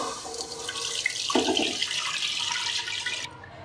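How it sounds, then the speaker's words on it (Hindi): Two litres of milk pour from a container into a cooking pot for a custard dessert, a steady close splashing stream that runs for about three seconds and then cuts off abruptly. "एक देचकी लेंगे, उसमें 2 लीटर दूध डाल देंगे"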